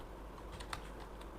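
Soft, quick keystrokes on a computer keyboard while an email and password are entered, faint and close against a low background hum, with no talking.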